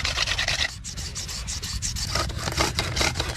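Softwood rubbed hard against hardwood to start a friction fire on a deserted island, a steady, close rasping scrape with rhythmic strokes that carries on without pause.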